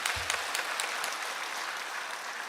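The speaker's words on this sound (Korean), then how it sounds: "다시 한번 하나님께 큰 영광의 박수 올려드립니다" A church congregation applauding after a choir's hymn: steady, dense clapping that fills the room and carries on evenly throughout.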